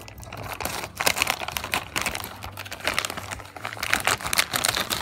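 Thin plastic coin bag being cut open and crinkled by hand, a busy run of close crackling and rustling with sharp snips and crunches throughout.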